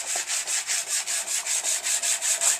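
Sanding block rubbing over painted guide coat on a Harley 883 Iron belly pan, a steady rhythmic back-and-forth rasp of about a dozen even strokes, close and clear with no talking.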